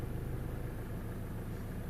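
The engine of a Land Rover Discovery Sport idles with a steady low rumble, heard from close by with no speech.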